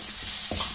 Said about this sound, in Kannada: ಎಲ್ಲ ಚೆನ್ನಾಗಿ ಫ್ರೈ ಮಾಡಿ